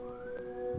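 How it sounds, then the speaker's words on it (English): A wailing emergency siren sweeps steadily upward in pitch, loud and continuous for under a second, ending in a low rumble. "right now, the sirens are here"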